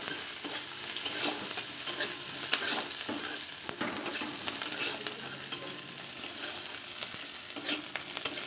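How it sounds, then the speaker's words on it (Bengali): Garlic and onion frying together in a pan for a pointed gourd dish, a soft continuous sizzle with quick, light stirring clicks running throughout. "রসুন পেঁয়াজটা একটু ভাজা ভাজা করে নিই"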